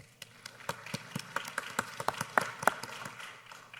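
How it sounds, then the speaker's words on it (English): Applause from an audience at a college event as a spouse is introduced, a scattered patter of individual claps building into a moderate round that carries on steadily. "Big round of applause"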